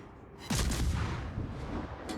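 Naval gunfire in a warship video game, with a heavy boom that erupts suddenly and rolls into a sustained low rumble, loud and close.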